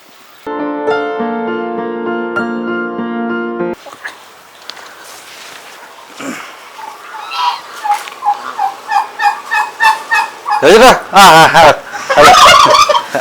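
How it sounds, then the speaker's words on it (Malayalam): Turkeys on a farm gobble in loud, rapid warbling bursts that grow denser toward the end, after a short stretch of steady music at the start. "ഇത് കൽക്കം, ടർക്കി എന്ന് പറയുന്ന സാധനം."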